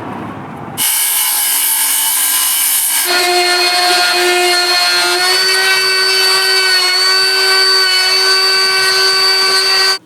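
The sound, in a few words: wood router cutting wood on a sailboat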